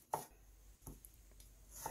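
Knife cutting onion into thin julienne strips on a cutting board, a few sparse, crisp chops spaced apart, close and fairly quiet with no talking.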